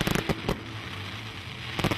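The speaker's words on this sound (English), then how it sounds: "A huge firework display marks the end of the festival." A large fireworks display at the close of a Diwali festival sends out a dense, continuous crackle with sharp popping bursts near the start and end, loud and unbroken by speech.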